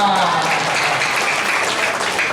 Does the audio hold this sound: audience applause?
yes